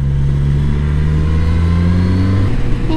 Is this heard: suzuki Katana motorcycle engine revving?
yes